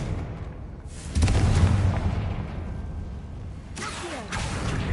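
A Confringo spell blast in Hogwarts Legacy, the Hufflepuff-house game played on PS5: a sudden booming burst that swells and lingers as a rumbling roar, with a second fiery whoosh near the end.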